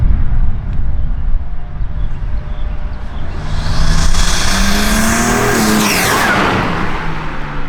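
A modified BMW M3 (G80) roars past close by, its exhaust building to a loud rasp, then the engine pitch drops as it speeds away.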